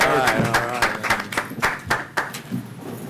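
A round of clapping from a small crowd at a city council meeting, sharp uneven claps over a murmur of voices, tapering off after a few seconds.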